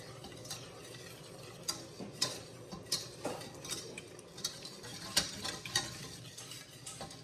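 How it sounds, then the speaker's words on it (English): A whisk stirs flour into melted butter in a pan while making Swedish meatballs, giving a quiet, steady scraping and clinking with repeated soft taps against the metal, close and alone with no talk. "We will take our flour and dump it in and whisk it in."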